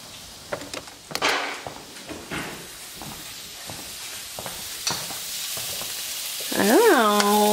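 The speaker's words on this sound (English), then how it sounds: "out here cooking breakfast" Breakfast fries in a pan at home with a steady sizzle and hiss, a utensil stirring and clinking now and then, and a brief rising squeal near the end.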